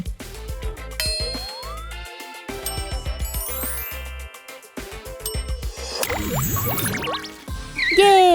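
A mobile phone rings with bright chiming, dinging tones in a lively melodic pattern, loud and close, layered with music and clattering effects in an animated comedy scene.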